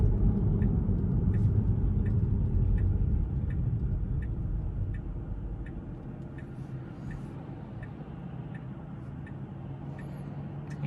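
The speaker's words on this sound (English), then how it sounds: "I guess once all these cars go by" Several cars pass on the road near a stopped car, giving a steady close rumble that slowly fades, with faint regular ticking from a turn signal throughout.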